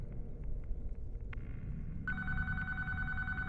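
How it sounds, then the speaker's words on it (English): A telephone in a building's main lobby starts ringing partway through, a steady electronic ring tone sounding close and clear over a low background rumble. "the phone rings."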